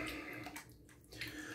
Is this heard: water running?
yes